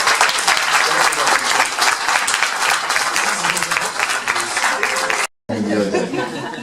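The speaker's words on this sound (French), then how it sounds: "Merci d'applaudir Jérôme." A crowd at a local talent show in Cazouls-d'Hérault applauds a young finalist named Jérôme with loud, dense, sustained clapping, plus some laughter. A short silent gap comes near the end, then the clapping goes on.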